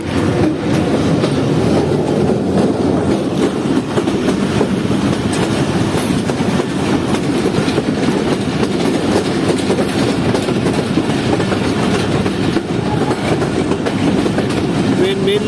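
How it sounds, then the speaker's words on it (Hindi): Jaffer Express passenger train approaching Jahangira Road station in Pakistan, heard from on board as a loud, steady rumble of wheels and carriage noise with faint clickety-clack running throughout. "और हमारी ट्रेन इस वक्त अप्रोच कर रही है जहांगीरा रोड रेलवे स्टेशन पर"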